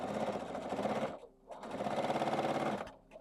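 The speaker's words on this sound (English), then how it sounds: "I'm going to sew that together" A sewing machine stitches quilt fabric scraps together in two steady whirring runs separated by a short pause, close and fairly loud.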